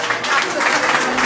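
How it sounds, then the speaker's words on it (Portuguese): An audience applauding a fado singer, a short burst of steady crowd clapping with a voice talking over it. "Uma salva de palmas para a tia Helena!"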